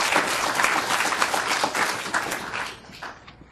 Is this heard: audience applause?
yes